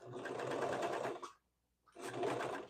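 A sewing machine stitches a seam on a pair of leggings in two steady bursts of running, separated by a short silent pause in the middle, close and clear with no talk.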